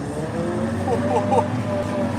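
Steady drone of a Bizon combine harvester's engine running while working a field, heard from inside the cab, with a faint whine from the drive axle and background music or talk over the constant rumble.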